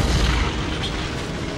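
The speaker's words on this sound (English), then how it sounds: "explosions." Explosion in the video game Batman: Arkham Asylum after explosive gel is set, a loud booming low rumble at the start that fades into a sustained roar.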